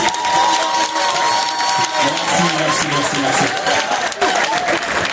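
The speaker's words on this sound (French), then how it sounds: "Voilà, on applaudit s'il vous plaît." Audience at a film pilot premiere screening on the Champs-Élysées applauding and cheering, a loud dense crowd sound running throughout with voices mixed in.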